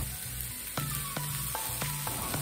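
Fennel seeds spit and crackle in hot oil with curry leaves in the pan, a soft steady sizzle close by and a few sharp pops over it.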